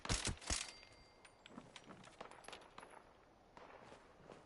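Distant gunfire in Fallout 76, a quick burst of sharp cracks at the start followed by scattered fainter shots and clicks over quiet ambience.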